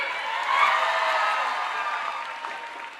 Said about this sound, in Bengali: এই মেলার প্রত্যেক সদস্য এবং সদস্যবৃন্দের জন্য সমস্ত আধিকারিক বৃন্দের জন্য একটা জোরে হাততালি